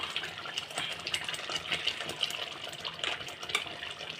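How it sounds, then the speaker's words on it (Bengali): Water poured from a tap into a rinsed yogurt bowl while cooking masala paneer, a quiet, splashy trickle with small irregular bursts, heard close and alone. "আমি টক দইয়ের বাটিটা ধুয়ে একটু জল দিচ্ছি"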